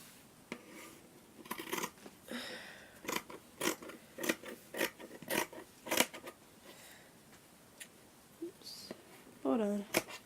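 Scissors snip through yarn in a series of short, crisp cuts spaced irregularly across the stretch, close and fairly quiet, with a brief bit of talk near the end.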